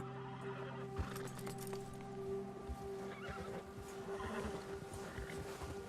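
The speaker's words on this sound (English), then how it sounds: "Oh wow, the horse gets scared." A spooked horse whinnies and neighs in Red Dead Redemption 2 amid a spring storm outdoors, with hoof clip-clops and steady rain and wind noise underneath throughout.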